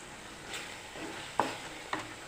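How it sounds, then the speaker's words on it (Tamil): Onions sautéing in a pan for a chicken liver gravy, with tomatoes tipped in partway through: a soft, steady sizzle and stir, then two short, sharper splashes as pieces drop into the hot oil. "வெங்காயம் வதங்கிடுச்சு இப்போ நம்ம தக்காளி சேர்த்துக்கலாம்"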